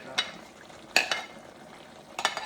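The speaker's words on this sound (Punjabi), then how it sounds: "ਤੇ ਹੁਣ ਆਪਾਂ ਇਹਦੇ ਵਿੱਚ ਐਡ ਕਰਾਂਗੇ ਆਪਣਾ ਅਦਰਕ ਲਸਣ" Ginger and garlic hitting a hot pan for a desi-style Punjabi chicken curry, producing a quiet frying sizzle punctuated by three sharp scrapes or clinks of a spoon against the pan.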